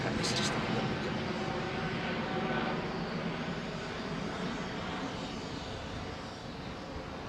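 Aircraft climbing out overhead after departure from London Heathrow runway 09R, a broad steady engine roar that slowly fades, heard at a distance with faint voices nearby.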